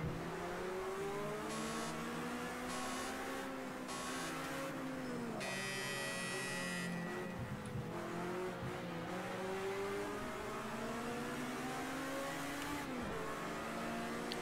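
BMW 2002 race car engine in a racing video game, a continuous revving drone that rises and falls through gear changes, with short beeping game tones at points and a brief tire-squeal-like whine.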